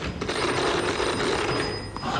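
A toy telephone rings continuously at close range for a couple of seconds, an even electronic ringing over background noise with no one speaking.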